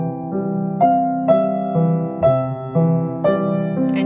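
Piano plays left-hand arpeggios with the sustain pedal held, each new chord struck clearly about every half second and the notes ringing together, close and resonant with no talking.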